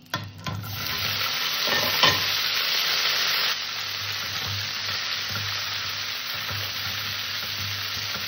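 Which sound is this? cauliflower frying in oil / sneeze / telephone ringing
cauliflower frying in oil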